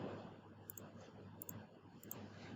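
Faint computer mouse clicks, three quick double clicks spaced out evenly over a quiet room background.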